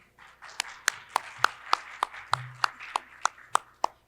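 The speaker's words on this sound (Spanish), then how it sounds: "Un aplauso" An audience at an education conference applauds with crisp, evenly spaced claps in a steady rhythm, about a dozen distinct hits over a few seconds, fairly close and clear.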